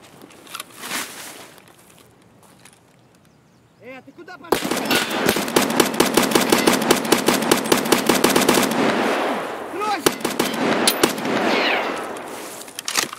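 Rapid automatic gunfire bursts in the shooter game Escape from Tarkov, a loud sustained stream of shots lasting several seconds, preceded by quieter ambient sounds and a few scattered noises, with brief pauses and more shots trailing off afterward.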